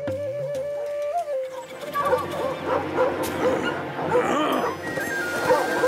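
Several cartoon dogs in an animated show bark and yip in a noisy, overlapping chorus, close and energetic, with a voice heard at the start.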